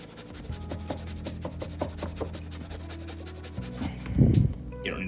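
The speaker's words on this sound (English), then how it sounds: "We're gonna grate a 1/4 of an onion in there." A quarter of an onion rubbed against a grater for pulled pork, short rhythmic rasping strokes close up, followed by a louder thump near the end, no voices.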